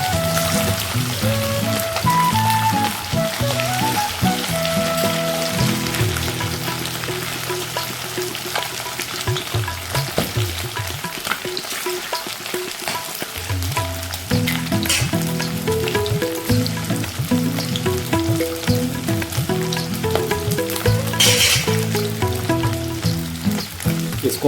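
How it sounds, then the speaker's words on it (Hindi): Spicy chicken roast frying in a pan gives a steady, loud, close sizzle throughout, with occasional stirring scrapes and a brief quieter dip midway. "इसको हम 2 मिनट ऐसे ही फ्राई करेंगे।"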